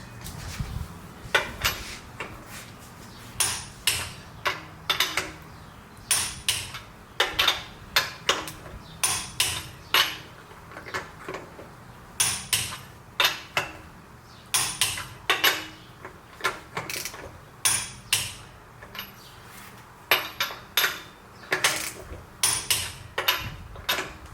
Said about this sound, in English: Bring in the torque wrench.